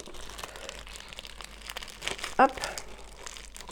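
An incense package from India, a cheap wrapper, is torn open with a short sharp crinkling and tearing burst close to the mic, set amid quiet room noise and a brief spoken word.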